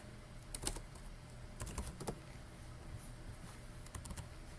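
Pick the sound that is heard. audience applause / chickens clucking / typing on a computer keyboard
typing on a computer keyboard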